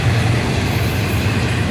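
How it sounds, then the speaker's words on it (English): A freight train passes at a siding with a dense, close, steady rumble and broadband rolling roar of wagons, loud and continuous without talk. "and then the bottom end of the train should be coming right about now."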